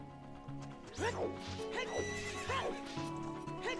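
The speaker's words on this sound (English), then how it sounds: "oh, there's my horse." A horse whinnies repeatedly in Ocarina of Time, with rising-falling neighs over hoofbeat clip-clops and a looping game melody.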